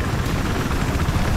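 A helicopter in Battlefield 4 roars with dense, steady rotor noise, loud and close, filling the whole moment with no voices.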